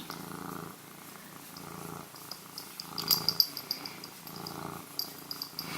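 A cat purrs steadily up close, a soft rhythmic rumble rising and falling with each breath, with a few faint clicks and rustles.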